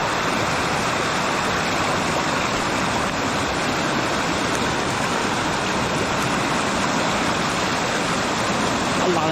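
Rushing river water, swollen too high to cross, roars close and constant for the whole stretch as a dense, unbroken wash with no pauses.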